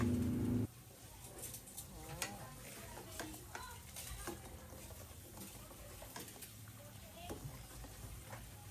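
Sinigang na hipon, a Filipino shrimp soup, gets stirred in a pot as soup cubes dissolve, with soft clinks and scrapes of a utensil under light simmering, briefly overlapped by a voice at the start.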